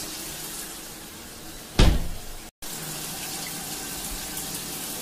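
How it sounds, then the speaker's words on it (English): Shower water pours steadily onto a Hyper Tough plastic storage utility box, a constant loud hiss and splatter with a brief harder splash partway through and a momentary cutout. "So it's right under the shower flow."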